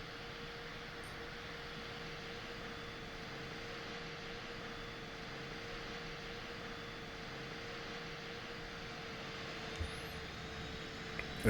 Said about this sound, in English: So that's engine 2 spooling now.